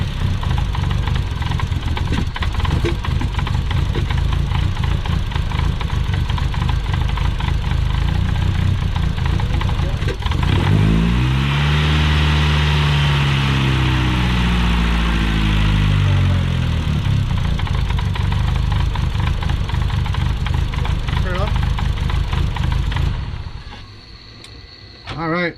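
A car fitted with a big turbo runs at a loud, rough idle close by, with a revving swell in the middle and the engine cutting off near the end.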